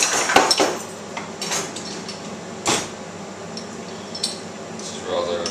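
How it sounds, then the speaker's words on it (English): Garlic crushed in a makeshift crusher while making an omelette gives a few close, sharp metallic clacks and squishy presses with quieter scraping between them, a handful of distinct bursts spread over several seconds. "now I think it's time to break out my super high-tech garlic crushing device."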